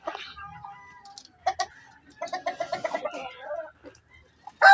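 Paraoakan chickens with a newly hatched chick give soft clucks and chirpy calls in short bursts, nearby and moderately loud, with a sharper squawk at the end.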